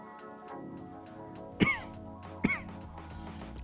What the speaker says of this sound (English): this very light cough that I have